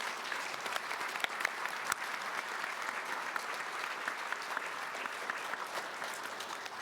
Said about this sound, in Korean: 양국 관계의 발전과 우호 증진을 위해 이러한 결의를 다지는 의미에서 여러분 힘찬 박수로 화답하여 주시기 바랍니다